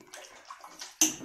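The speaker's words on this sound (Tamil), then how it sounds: "இன்னும் கொஞ்சம் தேவையான ஒரு தண்ணி ஊற்றிக்கலாம் நம்ம" Water splashes into a cooking pot of eggplant tamarind kootu in a short, soft pour, then a louder splash near the end.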